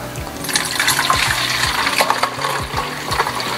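Water trickles and splashes steadily as it is poured from a measuring cup into a plastic spray bottle for treating chili plants, a close continuous liquid patter with small knocks and no speech.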